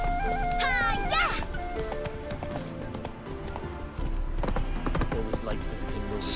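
Roach, a horse in The Witcher 3, gallops with steady clip-clop hooves under game music, with a whinny and people talking over the hoofbeats.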